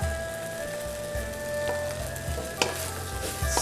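Rice, three cups, being stir-fried in a warm pan for fried rice: steady frying hiss with repeated scraping stirs of a spatula, a few sharper clinks, close and moderately loud with no talking.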